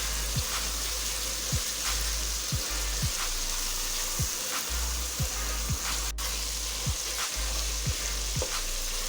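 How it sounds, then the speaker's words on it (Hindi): Masala for ridge gourd curry frying in oil in a pan, a constant close sizzle broken by regular low thuds of stirring, no voices. "ये मसाला हमारा अच्छी तरह भुन गया।"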